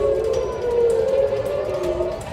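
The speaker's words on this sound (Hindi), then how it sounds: "शहर की फिजा में गूंजता ये सायरन" An air raid siren wails steadily over Tel Aviv during a missile attack, with a rising and falling tone, loud and sustained over a low background rumble.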